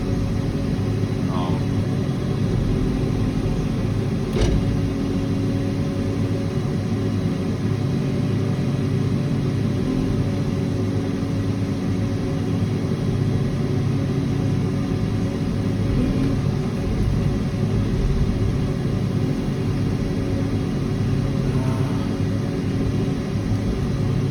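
A Caterpillar 302.7 mini excavator works at quarter throttle while digging for downspout drain piping, giving a steady, close diesel rumble that holds for the whole stretch with a few small clanks and faint talk over it.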